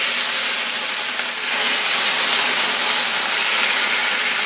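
Poultry sears in a very hot frying pan for chicken and bacon skewers, a loud continuous sizzling hiss that rises a little partway through and stays steady and close, with no talking.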